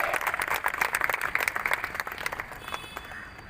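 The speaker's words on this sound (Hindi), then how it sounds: "जोरदार तालियों के साथ स्वागत किया जाए।" An audience at a police and public gathering claps to welcome police officers, the dense applause strong at first and then tapering off toward the end.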